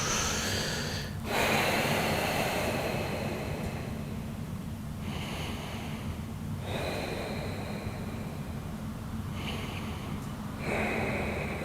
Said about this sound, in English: Take 3 more breaths.